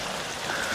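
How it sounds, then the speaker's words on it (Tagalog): Steady rain falling, a continuous even hiss that fills the whole moment at moderate level, with no voices. "kanina lakas na ulan Medyo humina ngayon."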